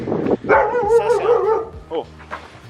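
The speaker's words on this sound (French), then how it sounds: "Ça c'est un chien heureux." Toby, a happy dog out on a walk, gives close, excited yips and whining barks in a short burst, loud and bright.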